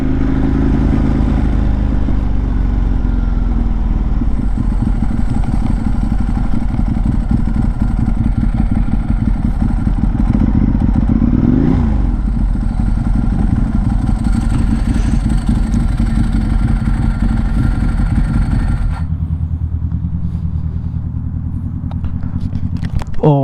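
Ducati 1098 superbike being ridden, a loud continuous engine roar with steady drone and wind buffeting, a brief pitch sweep near the middle, then the engine noise drops off near the end.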